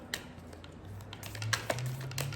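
Rapid soft riffling and tapping of cards being shuffled, a close, light patter with a few sharper snaps, over a low steady hum.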